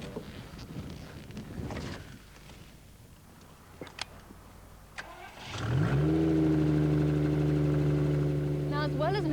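A trike's engine cranks and catches, then settles into a loud, steady running drone with rising revs as it pulls away, close by; someone speaks briefly before the start.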